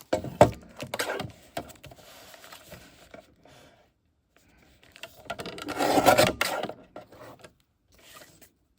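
A paper trimmer cutting paper for a junk journal made from scraps, an Amazon envelope and a vintage quilt: two bursts of close rasping, scraping strokes, separated by a quiet gap, with no talk.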